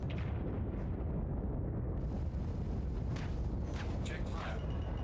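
Cannon fire from Star Citizen 4.7 ground-vehicle combat during a mining mission: dense rumbling blasts and rolling booms, with sharper bursts clustered near the end, under a continuous heavy roar with people talking.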